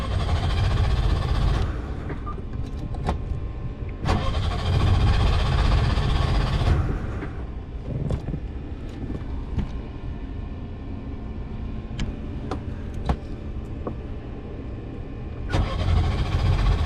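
Small engine started with full choke and the throttle slightly open, catching quickly and running with a loud, steady mid-pitched drone alone close by, with brief surges and clatter.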